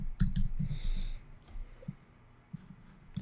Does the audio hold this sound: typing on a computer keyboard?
yes